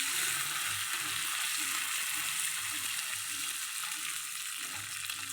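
Almonds, cashews, pistachios and raisins roasting in ghee in a pan, a steady close sizzle that holds level throughout with no one talking.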